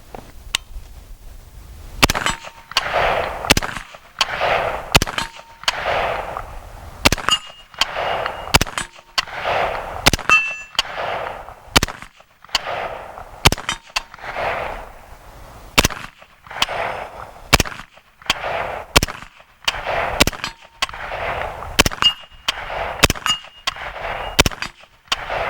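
A series of sharp, loud rifle shots from an H&R 652 carbine fed by a Colt AR-style magazine, fired one at a time at a steady, fairly rapid pace with brief gaps between them and no talking.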